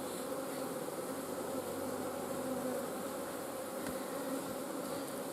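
Honeybees in a hive being worked in January hum in a steady, even drone that fills the whole stretch, heard close and without talking.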